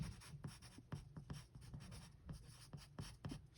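A pen scratching across paper up close, soft and steady strokes with little taps at a quick uneven rhythm as someone writes out an accounting entry, with no talking.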